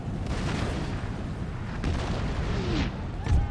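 Cannons fire in the video game Empire: Total War, heard as a few distant booms and rumbling blasts over continuous battle noise, with one sharper report near the end.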